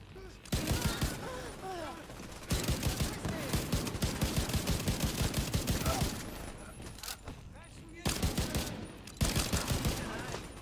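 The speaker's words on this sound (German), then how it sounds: "ich werde beschossen" Bursts of gunfire from enemies in the shooter game Division 2, with dense rapid volleys over several seconds, brief pauses around the middle and a final loud flurry.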